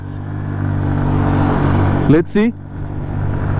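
A 110cc Hero Xoom scooter pulls hard at full throttle, its steady mid-pitched engine drone sustained under rushing wind, with a brief spoken remark near the middle.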